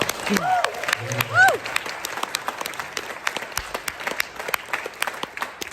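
An audience at a live debate event claps steadily for several seconds, with a few whoops and voices rising over the applause.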